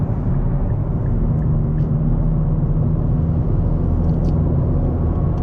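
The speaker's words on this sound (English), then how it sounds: "It is pretty loud, but that's to be expected since this is a sports car." Loud, steady low engine drone and road rumble inside a Nissan Z sports car cruising on the highway, continuous with no voices.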